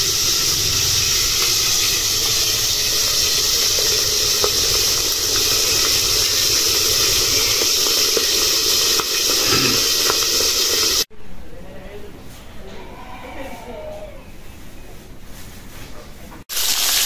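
Large boal fish frying in hot oil gives a loud, steady, broadband sizzle for about eleven seconds, then the sound cuts to a quieter stretch with faint background voices.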